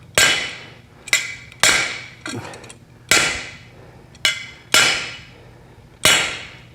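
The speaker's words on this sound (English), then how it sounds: "Yes, there's a hammer in on this. It's called a spud wrench." A hammer pounds a spud wrench on a 1972 Volkswagen Super Beetle strut, making seven or eight loud, ringing metal clangs roughly every second, close up with brief scraping between blows.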